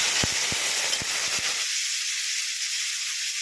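Chopped crab goes into a hot pan with a loud, broad hiss, sharp crackles and pops at first, then a steady sizzle.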